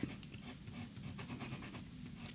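A fountain pen fitted with an Opus 88 nib writing on paper: a soft, continuous scratching of the nib, close and quiet, with a couple of faint taps at the start.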